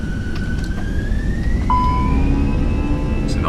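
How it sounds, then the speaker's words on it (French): Cockpit alarm in Microsoft Flight Simulator 2020 sounds over a loud steady engine roar, a thin continuous tone slowly rising in pitch with a brief sharper beep partway through. "C'est normal l'alarme, hein, j'ai pas paramétré l'avion"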